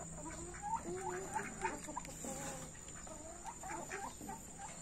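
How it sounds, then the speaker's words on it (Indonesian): Chickens including laying hens and village fowl, kept with ducks in a 15 by 15 metre pen, cluck and squawk in a steady, moderately close chorus of overlapping calls with no talking. "ayam petelur, sama bebek ya."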